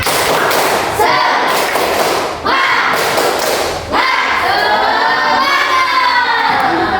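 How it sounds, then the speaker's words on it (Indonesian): Schoolchildren in a classroom shout a rhythmic group clapping chant, loud and close, with bursts of claps and voices in unison repeating through the stretch. "Tepuk semangat."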